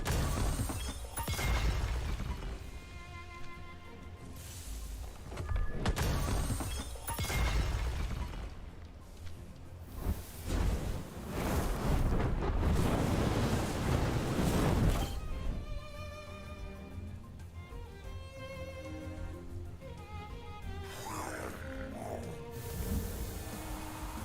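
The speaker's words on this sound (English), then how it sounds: "Ah, fire tornado." A fire tornado attack in the creature-battle game Temtem brings roaring, crashing whooshes of flame in repeated loud surges, layered over a steady musical backdrop.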